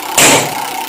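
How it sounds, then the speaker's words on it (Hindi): A scooter engine gives a short, loud burst of noise, then settles into a steady low engine hum close by. "स्कूटर,"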